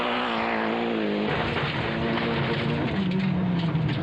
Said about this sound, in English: our race camera is fitted to the front of Michael Gerber's car, which is now going